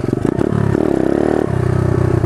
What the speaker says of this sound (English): I guess we can do some little mini moto wheelie still with no rear brake.